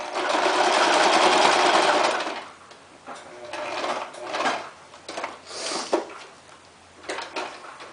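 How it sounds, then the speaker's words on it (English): A sewing machine stitches straight across a onesie extender in a loud, steady whirring run of about two seconds, then stops; softer bursts of fabric handling and short stitching follow. "you're just going to take that and just sew it straight across"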